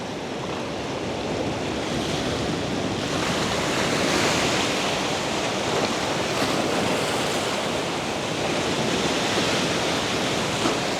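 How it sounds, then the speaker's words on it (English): Ocean waves breaking over rocks make a steady, loud wash of surf with slowly swelling roars and some wind noise, rolling continuously with no voices. "Some decent waves still coming through"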